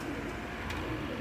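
A teddy pigeon coos softly amid steady background noise, a short low murmuring call heard briefly without any voices.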